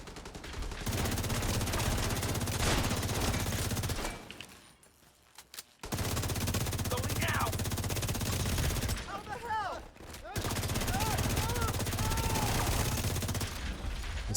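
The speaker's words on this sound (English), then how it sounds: "Some shooting." Sustained video game gunfire fills most of the stretch as steady, loud automatic bursts, broken by two brief quieter gaps. Faint chirpy game effects sound in between.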